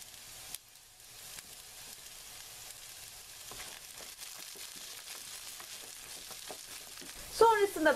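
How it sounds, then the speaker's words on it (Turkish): Green peppers and sucuk sausage frying in a pan, a soft steady sizzle with occasional scraping stirs, ending in louder clattering of the spoon against the pan. "Sivri biberimizi ve sucuğumuzu da ekleyip karıştıralım."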